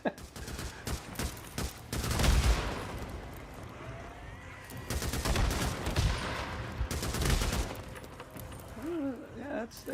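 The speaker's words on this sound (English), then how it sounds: "It's just a lot of explosions." Explosions and gunfire from the Days Gone zombie survival video game, with repeated bursts and heavy blasts clustered in loud waves over continuous background noise, and a voice talking throughout.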